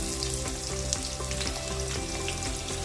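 Cumin, mustard seeds and onion pieces fry in hot oil in a pan with a dense, close sizzle, small crackles and pops, and light stirring, with no talking.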